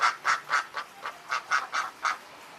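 A male duck on a farm for egg-laying ducks gives about ten hoarse, evenly spaced quacks in a quick steady rhythm, close and loud with a quiet background.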